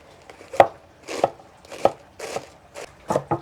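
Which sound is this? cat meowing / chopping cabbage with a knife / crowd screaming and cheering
chopping cabbage with a knife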